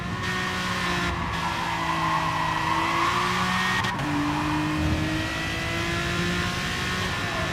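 Aston Martin DBR9 race car in Gran Turismo Sport, its engine howling at high revs close and loud down a long straight, the pitch climbing steadily with a brief gear-change dip and no talking.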